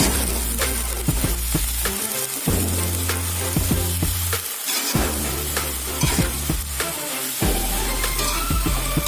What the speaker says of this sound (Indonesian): Kita aduk sampai benar-benar bumbunya itu meresap semua.